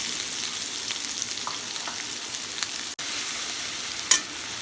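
Steady, faint sizzle of onions frying in hot oil, a continuous crackling hiss with a few soft clicks and one brief sharp tap near the end.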